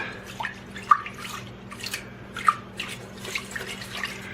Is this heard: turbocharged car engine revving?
no